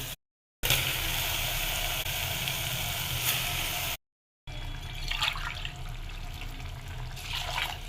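Water poured into a pot of rice and lentils with tomato, a steady splashing rush in two pours separated by a brief pause, the second quieter with light trickles.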